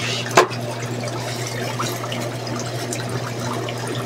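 Water trickles and flows steadily close by from a continuous drip tube into a tubifex worm setup, with a low hum underneath and a brief clatter near the start.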